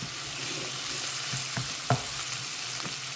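Vada pieces and softened onions sautéing in a pan, a steady low sizzle with a few brief scraping stir strokes, close and alone.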